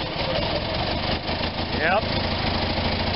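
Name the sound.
Onan engine running after carburetor rebuild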